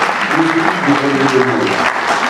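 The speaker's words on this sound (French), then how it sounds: "je vous prie d'applaudir bien fort pour le président fondateur du mouvement citoyen éclairé" Steady, dense applause from an audience at a Congolese youth event honouring the founding president of the Mouvement Citoyen Éclairé, sustained throughout with faint voices mixed into the clapping.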